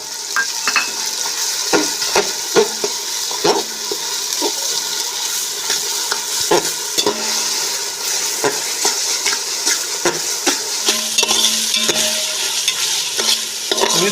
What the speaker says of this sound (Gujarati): આપણો મસાલો ફ્રાય થઈ ગયો છે તેલમાં. આદુ લસણ મરચાંની પેસ્ટ નાખી છે, ફ્રાય થઈ ગઈ છે